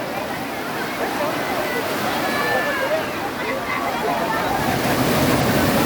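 Sea waves washing onto a beach make a steady, loud roar of surf and churning water with no breaks, while people play in the water nearby and voices mix faintly into the rush.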